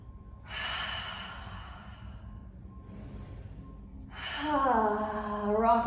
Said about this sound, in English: 2 more belly breaths.